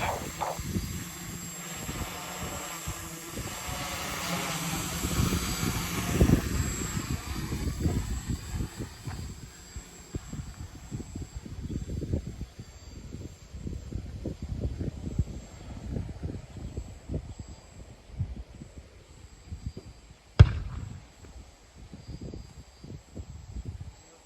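A DJI F450 quadcopter drone running a NAZA-M V2 flight controller whirs on its first flight toward a field in Barcelona, a steady buzzing rotor drone with wind rumble and fluctuating intensity throughout, one sharp click near the end.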